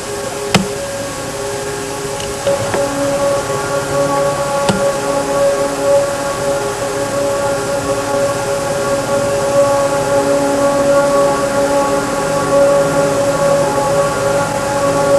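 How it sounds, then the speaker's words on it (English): Ore train 880 approaching on the back stretch, heavily loaded, with a steady loud rumble and sustained horn-like tones holding throughout and a few sharp clanks near the start. "So you're seeing the last of these 880 ore trains."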